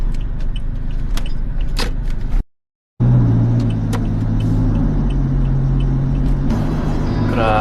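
Inside a car on a bumpy road, a loud steady low rumble of engine and road noise carries light rattles and knocks, cut by a brief dropout before the cabin drone returns. No voices.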